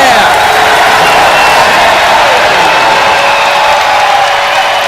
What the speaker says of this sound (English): And a standing ovation from a capacity crowd here at Alumni Arena, cheering on Buffalo coming back from behind